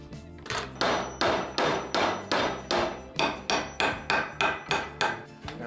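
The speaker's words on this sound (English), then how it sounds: "I decided the best solution would be to simply push all the nails back out the way they were put into the wood." Old nails being hammered back out of reclaimed wood for a stool build, a steady series of about fifteen evenly spaced metallic hammer strikes, close and distinct, with no talking.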